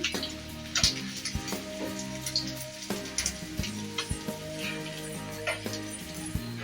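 Fish fries in a pan with a steady crackling sizzle, punctuated by several sharp clanks and taps of a utensil against the pan.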